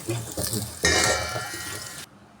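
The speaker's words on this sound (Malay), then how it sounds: "Ni bawang putih, kita garingkan dia. Bawang putih dengan halia tau. Kita garingkan dia." Garlic and ginger hit a hot pan for sop tahu putih, a loud sizzle bursting up mid-clip after some stirring clatter, then cutting off abruptly.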